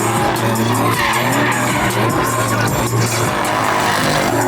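A car spins double donuts in a raceway donut pit, tires skidding and squealing continuously under a loud, steady engine roar with no break.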